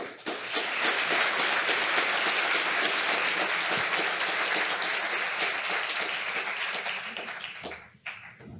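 A conference audience applauds steadily for the speaker Marion, with dense, even clapping that holds for several seconds before tapering off abruptly near the end.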